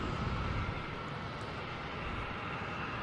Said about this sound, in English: We got a Boeing here